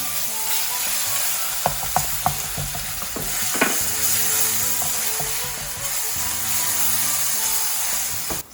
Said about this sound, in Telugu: ఇవన్నీ వేగుతున్న టైంలో మ్యాంగో తురుము వేసుకోవాలి.